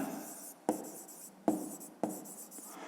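Handwriting on paper for a school physics exercise, a quiet close scratching of pen strokes broken by three sharp taps as the pen lands, alone with no talk.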